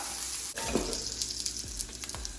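Beyond plant-based steak tips frying in a pan, a steady close sizzle with scraping stir strokes of a spatula at intervals, no voices.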